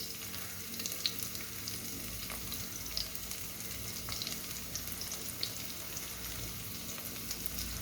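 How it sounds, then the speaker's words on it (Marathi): Garlic and cumin sizzle steadily in hot oil for spinach-onion greens, a dense continuous crackle with a few brief clicks and stir sounds, close and even throughout with no talk. "आता तेल पण गरम झालेलं आहे चला आपण टाकूया लसूण आणि जिरे"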